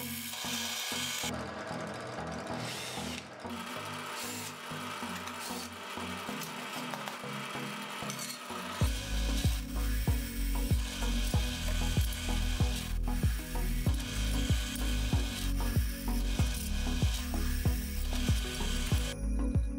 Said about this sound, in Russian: я все-таки воспользуюсь своим сверлильным станком